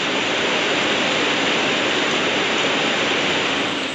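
Steady rushing rainwater pours continuously, a loud broadband splashing flow streaming through a gutter, with no voices.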